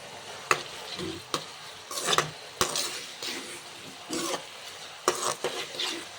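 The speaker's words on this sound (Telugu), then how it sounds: "టమాటా ముక్కలు వేసి అవి కూడా బాగా ఆయిల్లో ఫ్రై చేసుకోండి" Tomato pieces fry in hot oil in a pan while a spoon stirs and scrapes them, giving repeated sharp clanks against the metal over a continuous sizzle, close and fairly loud.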